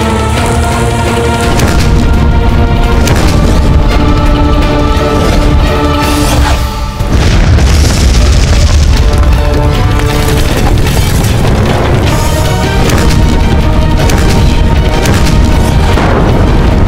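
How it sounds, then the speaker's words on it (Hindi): Continuous heavy booming with dense rumbling blasts over a loud, sustained background, like repeated cannon fire rolling on without pause, as cannons hurl heavy iron and stone balls during Akbar's siege of Chittor fort. "तब तक हमारी तोपों से आग बरसती रहनी चाहिए।"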